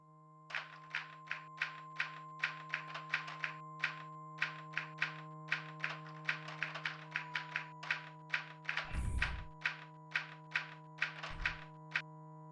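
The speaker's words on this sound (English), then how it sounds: "the typewriter is typing on its own" Typewriter keys strike on their own in the Realms of the Haunting game, a steady run of crisp mechanical clacks over a low constant hum, with a brief louder thud near the end and no voices.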